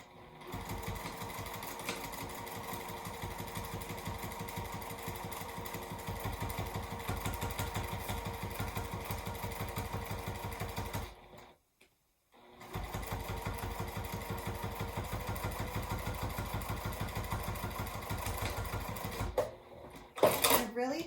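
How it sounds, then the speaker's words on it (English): A sewing machine stitches a tote bag seam at a 5/8-inch allowance, its needle hammering in a steady rapid rhythm close by. It stops briefly midway, then resumes at the same pace. Speech can be heard faintly at times. "now using the same 5/8 of an inch seam allowance, you're just going to stitch from the top"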